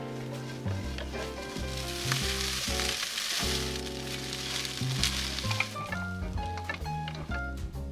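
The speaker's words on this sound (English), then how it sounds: "I'm hoping that when we fry it, the flour will make it a bit crispy." Tofu coated in flour, lemon juice and maple syrup fries in a pan inside a camper van, a steady sizzle running beneath loud background music.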